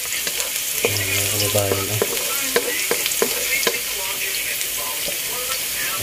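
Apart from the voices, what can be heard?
stirring frying food in a pan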